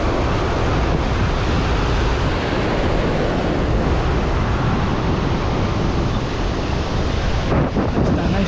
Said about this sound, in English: keep watching the waves